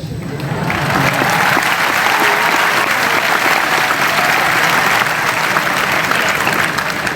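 A large audience at a youth conference lecture in a temple hall bursts into dense, sustained applause, loud and steady for several seconds after a brief quieter start.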